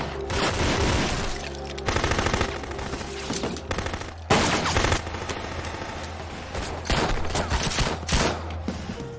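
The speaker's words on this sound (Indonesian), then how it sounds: "Kathy yang bertugas melindungi Park langsung menembakkan senjata sampai akhirnya aksi tembak-tembakan pun terjadi." Loud, rapid bursts of automatic gunfire fill a film shootout, repeated volleys with short breaks between them and no talking.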